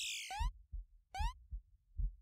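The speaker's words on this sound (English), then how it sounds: "And the heartbeat in my ears, just, it feels like my head is throbbing." Slow, heavy heartbeat from the horror video game Eversion: deep paired thumps repeating steadily, close and muffled, with two sharp descending tonal sweeps cutting in above the beat.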